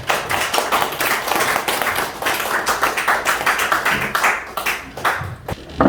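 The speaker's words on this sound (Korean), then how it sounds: "큰 박수 부탁드리겠습니다" An audience at a lecture hall gives a big round of applause to welcome a speaker, with loud, close clapping in uneven surges and a few sharp individual claps as it fades out.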